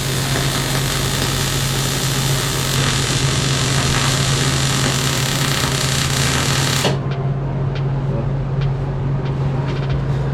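Tack welding on a Toyota frame during a stock-floor body drop, a loud steady buzzing crackle with a strong hum that runs continuously for about seven seconds, then stops, leaving softer scattered ticks and background noise.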